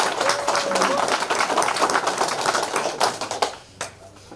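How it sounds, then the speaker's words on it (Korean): Audience applause at a volunteer fire brigade day ceremony in Hamyang, a dense, loud burst of clapping from a crowd that fades out near the end. "우리 연합회장님 전임 8분한테 큰 박수 한번 부탁드립니다"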